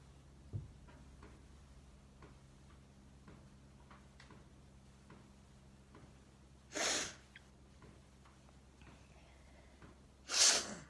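Two sharp, loud sneezes burst out alone against a quiet room, the first near the middle and the second close to the end, with faint soft ticking and breathing in between.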